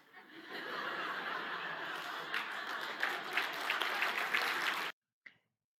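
An audience applauds steadily, mixed with scattered laughter and chuckles, for about five seconds before it cuts off abruptly, followed by one faint tap.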